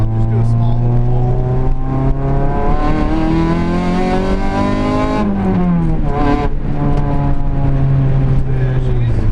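An Acura Integra fitted with a swapped Honda B20 engine accelerates loudly and close, its engine note climbing through the revs, dropping at a shift, then rising again.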